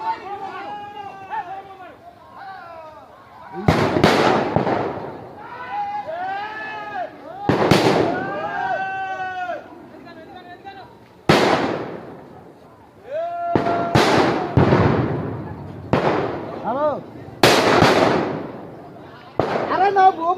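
Firecrackers are thrown one after another, each a sharp loud bang with crackle, several bursts spaced a few seconds apart amid excited shouting and a crowd of voices.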